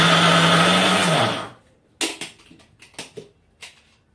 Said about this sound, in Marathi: लसूण, हिरवी मिरची वाटून घेते।